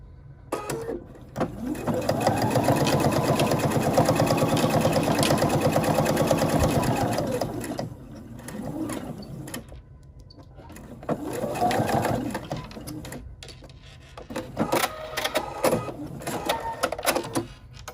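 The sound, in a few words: sewing machine stitching fabric Christmas ornament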